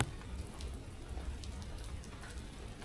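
Rain falls outside a cave entrance, a faint, steady patter of drops with a few sharper splashes and no talk.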